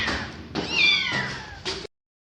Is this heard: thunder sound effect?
no